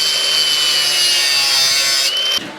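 A power tool cuts through sheet metal on a 1953 GMC truck, producing a loud, steady high whine with a sustained tone that shifts slightly and then stops abruptly just before the end, with no talk.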